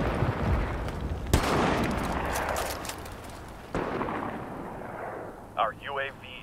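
A video game's enemy airstrike brings loud, booming artillery blasts and rumbling gunfire, with sharp impacts about a second and four seconds in, then a brief game voice line near the end.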